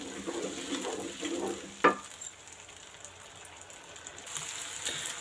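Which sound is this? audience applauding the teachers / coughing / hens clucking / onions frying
onions frying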